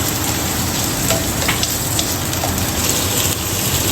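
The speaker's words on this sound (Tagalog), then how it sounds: "Magigisa na tayo ng sibuyas at bawang." Onion and garlic sautéing in a pan, a steady loud sizzle and hiss with no break and no talk.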